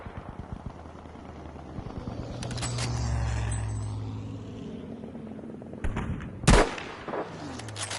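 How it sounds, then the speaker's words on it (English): Distant sniper rifle fire in Battlefield V, set against a low rumbling battlefield backdrop, with a few sharp reports and one loud crack standing out near the end. "a quick clip now of me trying to shoot somebody a long way away"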